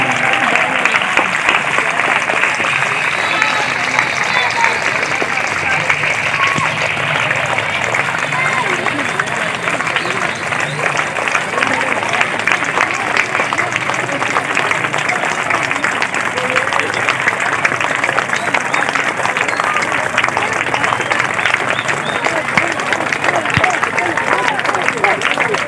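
A large audience claps loudly and steadily at an Independence Day celebration for 14 August 1947, a dense, continuous wall of applause that holds at full strength throughout with a faint crowd murmur underneath.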